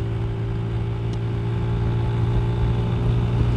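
A Yamaha YBR motorcycle cruises along at speed, a steady, loud engine drone with a fixed humming tone and constant rushing noise underneath, with no voices.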